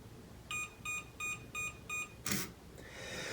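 Six short electronic beeps in an even rhythm from a biometric fingerprint door lock with low batteries, followed by a brief burst of noise and a soft hiss, heard close up.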